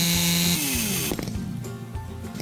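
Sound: power saw cutting wood for a house

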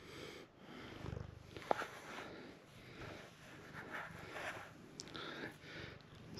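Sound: cat purring near microphone

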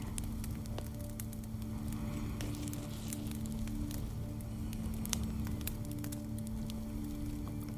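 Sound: crackling fire

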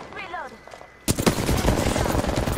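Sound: gunfire from enemies in the video game Apex Legends

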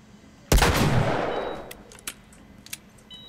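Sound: gunshots in the video game The Last of Us

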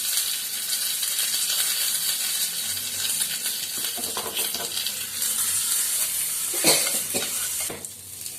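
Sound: green chilies and curry leaves sizzling in hot oil

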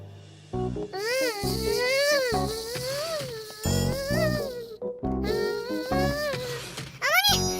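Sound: cartoon character imitating a buzzing fly

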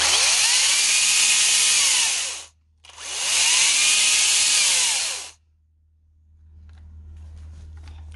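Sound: Makita 18V XPT brushless 10-inch top handle chainsaw running

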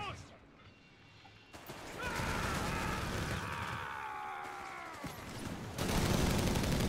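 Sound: machine gun fire in a video game

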